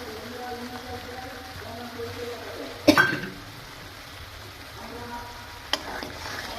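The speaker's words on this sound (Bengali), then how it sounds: "এবার খুব ভালোভাবে মশলাটা কষে নেব।" Spice paste with ground cashew and raisin fries in oil for a Kashmiri potato dum, giving a soft steady sizzle with a sharp clatter of stirring near the middle and a brief tap later.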